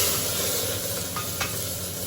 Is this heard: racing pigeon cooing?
no